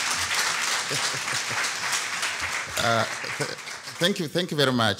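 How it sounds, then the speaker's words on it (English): Audience applause for a lecturer, Dr. Felipe, at a conference session on poverty and shared prosperity: a steady wash of clapping from a sizable crowd, with a voice speaking over the tail end. "I think Dr. Felipe needs another round of applause"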